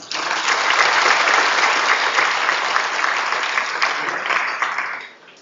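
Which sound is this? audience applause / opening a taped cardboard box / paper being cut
audience applause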